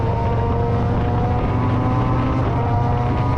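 A loud, continuous rumbling Harley-Davidson Heritage Softail engine idling through a JTEC exhaust, with a deep, throbbing low-end drone and steady roar, close to the microphone, with no speech.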